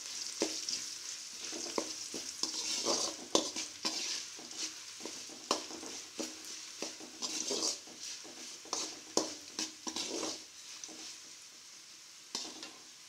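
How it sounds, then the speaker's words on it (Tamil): Garlic frying in oil in a pan, a soft continuous sizzle with frequent rhythmic scrapes and taps of a spoon stirring against the metal, fairly close. "பூண்டு நல்லா எண்ணெயில் வேகட்டும்"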